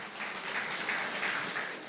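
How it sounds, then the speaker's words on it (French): An audience at the opening ceremony of Jarry en Fête 2024 claps in a dense, continuous burst of applause, moderately loud and pulsing slightly, with no speech over it. "sous vos applaudissements, s'il vous plaît."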